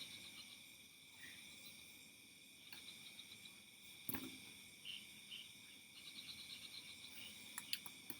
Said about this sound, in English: live in Bali at nighttime with the beautiful sounds of the insects behind me.